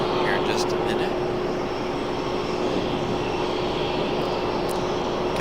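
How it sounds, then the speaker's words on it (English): Southwest Airlines airliner departing Raleigh-Durham airport, a steady broad engine roar heard from a distance under constant wind noise. "Got Southwest departing over here on the east."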